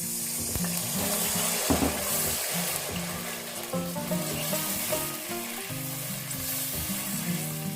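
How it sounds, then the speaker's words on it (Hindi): Jaggery with a splash of water melts in a pan over medium flame, giving a steady frying sizzle and stirring sounds under background music. "जब इसमें आप गुड़ डालें तो इसमें थोड़ा सा पानी ऐड कर दें आप।"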